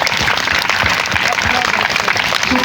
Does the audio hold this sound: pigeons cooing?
no